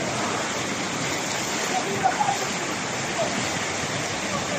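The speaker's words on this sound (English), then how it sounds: "Mountain runoff added to the urban flooding" Floodwater and mountain runoff rush through city streets during typhoon flooding, a loud, unbroken broadband roar like a torrent, with a few faint tonal blips in the middle.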